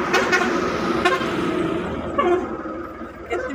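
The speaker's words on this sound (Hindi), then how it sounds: "कितनी प्यारी आवाजें लगती है ना ट्रक की" Truck horns honk repeatedly at a roadside hotel at night where truck drivers stop to eat and sleep, several toots overlapping amid steady engine rumble, fairly close and loud with no talk.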